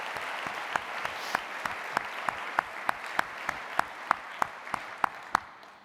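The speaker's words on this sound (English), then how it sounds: "let's give them a round of applause." A hospice fundraising audience gives donors a round of applause: steady, moderately distant clapping with sharp individual claps standing out in a regular pattern before it fades at the end.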